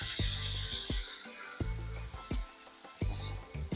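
Ground masala paste sautéing with softened tomatoes in a pan for a cauliflower gravy, with a soft broadband sizzle and repeated scraping and clinking of a spoon against the pan at a steady rhythm, close and moderately quiet.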